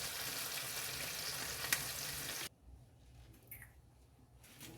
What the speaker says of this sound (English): So I'm just gonna allow these to fry